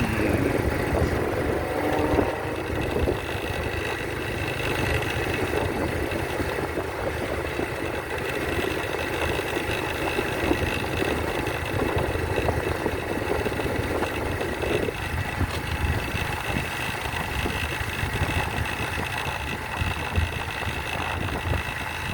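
Motorcycle engine drones steadily throughout a night ride through Jogja streets, a continuous close rumble with wind and road noise and no gaps.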